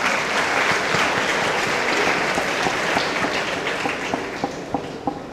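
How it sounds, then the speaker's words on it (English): Loud, dense applause from a graduation day audience at a college ceremony, honouring the placement team; many hands clap in a sustained roar that thins slightly with a few distinct claps near the end. "I think they deserve a big applause."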